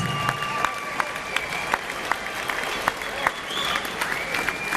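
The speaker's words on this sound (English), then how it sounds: "let's give these two warriors a tremendous round of applause" A boxing arena crowd applauds two fighters after a twelve-round championship bout, with steady clapping, scattered cheers and sharp individual claps over a murmur of voices.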